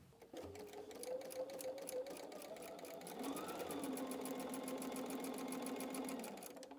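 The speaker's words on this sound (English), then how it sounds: "I'm going to go sew this corner to corner" A sewing machine stitching a quilt block corner to corner, a steady close-up whirring run with rapid regular needle ticks and a pitch that rises slightly midway.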